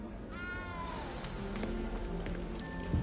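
A small cat in a video game lets out a short, rising meow, close and fairly quiet, over faint background ambience and soft movement sounds.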